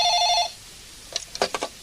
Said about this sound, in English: One morning in August, Joanna answers the phone.